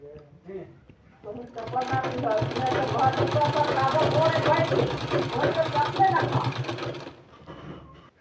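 Sewing machine stitching a palazzo pant design: a fast, steady mechanical whir and rhythmic needle clatter runs for several seconds close by, with brief speech before and after.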